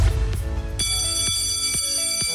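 A game show buzzer bell is tested in a studio, ringing as a bright, sustained tone with several sharp repeated strikes, loud and clear, and little else around it.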